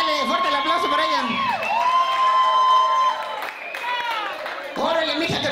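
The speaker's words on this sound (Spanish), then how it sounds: "fuerte el aplauso para ella." Comedy show audience in Chicago applauding and cheering loudly, with whoops and high shouts over sustained clapping, dipping briefly before swelling again.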